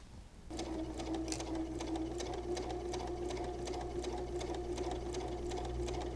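A sewing machine stitches quilt pieces for a friendship star block along a pinned line, running in a steady, rapid mechanical rhythm close by with no talking.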